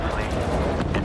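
Space-battle explosions and gunfire in the strategy game Homeworld 3, a loud, dense barrage of booms and rapid shots with no pause, a voice talking underneath.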